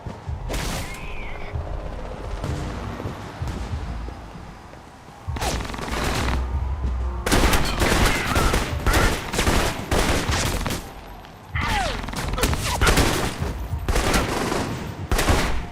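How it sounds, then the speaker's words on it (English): Alpha Protocol game scene with fireworks and gunfire: bursts of sharp, crackling shots and booms come in dense volleys separated by short quieter gaps. "The noise from those fireworks should cover the sound of gunfire."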